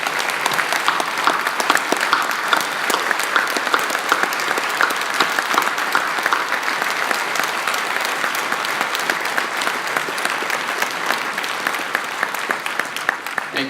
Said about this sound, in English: I would like to give them a round of applause for the job they did this week.